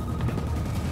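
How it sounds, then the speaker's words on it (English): A sudden explosion in the video game Generation Zero, a loud, dense low rumble that fills the whole brief moment without a clear separate blast. "I did not expect that to explode"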